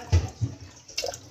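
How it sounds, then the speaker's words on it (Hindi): Water is poured from a bowl into a pot of spiced meat on the stove, giving a few short splashing glugs and sloshes close by, without any voices. "हुण पावांगे सी अद्धा डोंगा पानी दा"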